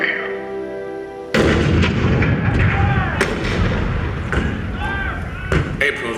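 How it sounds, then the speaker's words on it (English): Cannon fire booms out as a heavy, loud blast at Fort Sumter in the Hall of Presidents show, followed by a run of further thuds and explosive cracks over rumbling battle noise. "The cannon spoke for war, bitter, violent, and devastating."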